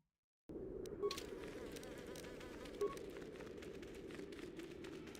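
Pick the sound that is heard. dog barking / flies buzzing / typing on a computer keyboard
flies buzzing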